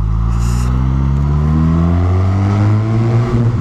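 A 2019 Suzuki Katana motorcycle with a 150 hp engine accelerating hard, a loud close engine note climbing steadily in pitch as it pulls through the revs.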